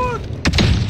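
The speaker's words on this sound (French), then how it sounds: "Grenade flash" A flashbang grenade goes off in Call of Duty: Modern Warfare, one sharp, loud burst that fades into a short rumbling tail.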